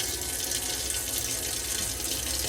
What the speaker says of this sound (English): Wait for the pump to kick in,